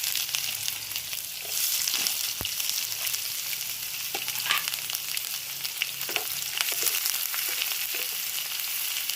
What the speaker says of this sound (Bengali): এবার পেঁয়াজ কুচিটা এর মধ্যে দিয়ে দেব